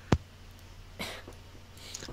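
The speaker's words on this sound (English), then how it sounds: "I'm coughing." A single sharp cough from a person nearby, short and loud at the start, followed by faint breathing and quiet room sounds.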